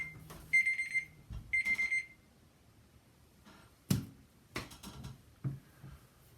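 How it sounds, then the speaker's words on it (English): A timer alarm goes off in two quick bursts of bright, electronic beeping, followed by a few sharp clicks and taps in an otherwise quiet room. "Timer's going off because the time that I have to record these videos is up."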